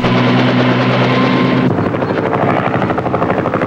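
Helicopter flying overhead during a rescue sling practice flight, a loud steady rotor roar with a strong low drone that shifts midway into a rougher, choppier whir.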